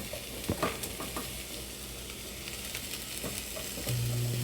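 Onion sizzling in hot oil on high heat, a steady crackling fry with scattered stirring clicks and scrapes, fairly quiet and close, with a low hum entering near the end.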